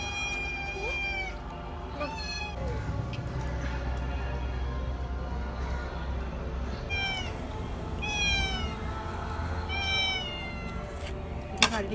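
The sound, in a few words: cat meowing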